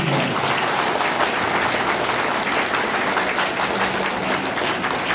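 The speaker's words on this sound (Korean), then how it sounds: "동의하시면 박수 한번 쳐주시기" Steady applause from an audience at a mayoral campaign committee launch, dense and loud, filling the whole stretch without pause and with no talk over it.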